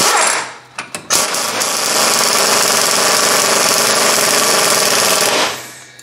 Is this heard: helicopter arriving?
no